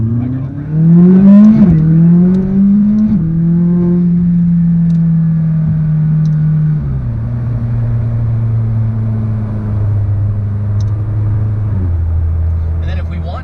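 A McLaren 600LT sports car drives through canyons, its engine revving up in steady rising pulls, then holding a loud, steady drone that drops in pitch as it shifts down.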